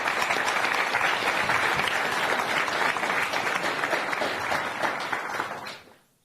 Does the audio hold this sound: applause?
yes